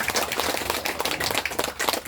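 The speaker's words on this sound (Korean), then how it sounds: "박수 부탁드리겠습니다." An audience at a poetry award ceremony applauds, dense overlapping claps at moderate volume forming a steady wash of clapping for about two seconds.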